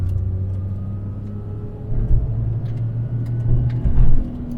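A 1999 Daewoo Matiz, a cheap used small car, pulls hard under full throttle, its low engine drone swelling in two surges near the end with steady road rumble from inside the cabin.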